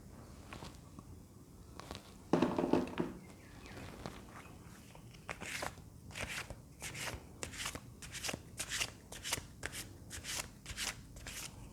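Tarot cards shuffled by hand: soft riffling and rapid flicking in uneven bursts that grow into a steady run of quick, crisp card slaps near the mic, with no talking.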